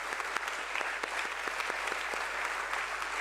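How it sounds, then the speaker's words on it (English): An audience at a 40-year SENSEX celebration event claps in a sustained, even round of applause, dense and steady throughout with no voices over it. "Can we please have a little louder round of applause"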